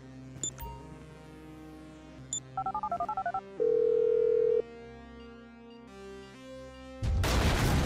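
A phone in Grand Theft Auto V dials out with a quick run of beeping keypad tones, then a long steady tone, and ends in a loud burst of noise.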